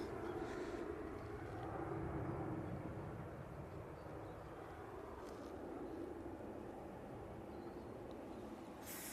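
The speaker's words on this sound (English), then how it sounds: "We've got that SAS A320 Neo from Stockholm just touching down" SAS Airbus A320neo from Stockholm touching down at Manchester Airport, a faint, distant steady jet roar with broadband rumble, heard alone without talk.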